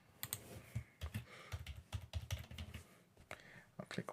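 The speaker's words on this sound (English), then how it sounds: "I'm going to reset the password to something that he can use." Someone types on a computer keyboard, entering a new password with irregular bursts of close, crisp key taps separated by short pauses, without any talk.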